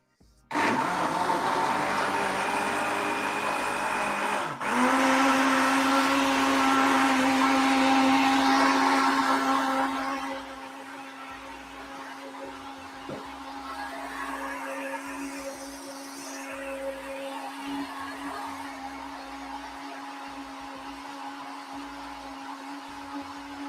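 A kitchen blender whirs steadily while blending hot cauliflower cheese soup, loud and close for about ten seconds before dropping to a quieter, lower running hum that continues alone to the end.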